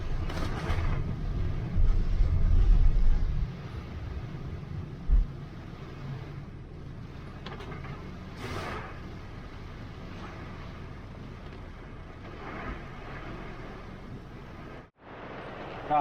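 Strong typhoon wind buffets a parked vehicle in Japan, a steady rushing roar with heavier gusts early on, heard from inside the car.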